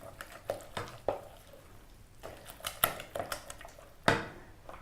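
A spoon stirs egg yolk into rice pudding in a pot, soft irregular scrapes and clinks with gentle squishy sounds, quiet and close, no talk.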